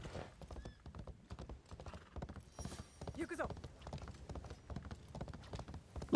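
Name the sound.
horse hooves clip-clopping in video game Assassin's Creed Shadows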